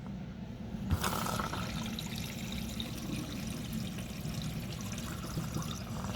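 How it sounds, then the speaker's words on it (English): Dishwasher draining water, a steady rushing, pouring wash with a brief louder gush near the start, continuous and close with no talk. "It's draining water."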